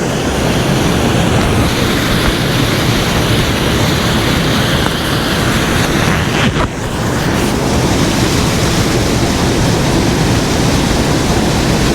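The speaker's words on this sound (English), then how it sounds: "Every pool's got a waterfall, and then it's just straight off into like a big pool down at the back here" A waterfall pours into plunge pools in Glencoe, a loud, close, constant roaring rush of water that fills the scene without pause.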